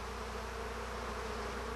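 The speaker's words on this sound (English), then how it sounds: "I've trained these bees from their hive about 100 meters away from here, and they're coming back and forth, foraging for the sugar syrup that I provide" Honeybees flying to and from bowls of sugar syrup outdoors, a steady close buzzing drone of wings with no pauses, moderately quiet and heard alone.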